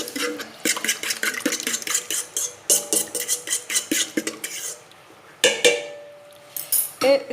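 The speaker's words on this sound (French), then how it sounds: "Je vais mélanger un petit peu avec la fourchette." A fork clinks and scrapes against a bowl while mixing pizza dough with olive oil, producing quick, uneven taps and stirring rattles close up, with a short pause midway before the mixing resumes.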